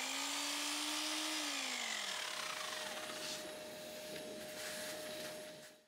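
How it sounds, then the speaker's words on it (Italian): A power drill whines steadily at close range, drilling a hole vertically, its pitch rising and then shifting as it bores in, before cutting off at the end. "Eseguite il foro verticalmente."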